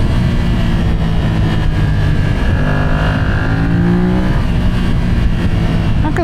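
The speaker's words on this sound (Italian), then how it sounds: "Anche lo scarichino sa il fatto suo, per essere totalmente originale." A stock-exhaust Yamaha MT-07 Y-AMT being ridden in the rain gives a loud, continuous engine drone with rising and shifting pitch and wind rush, heard up close with no talking.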